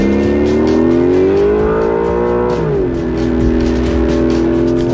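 A Porsche 911 GTS hybrid accelerates hard out of a race-track pit lane: a loud, close engine note climbs steadily, drops briefly at a gear change, then pulls strongly again.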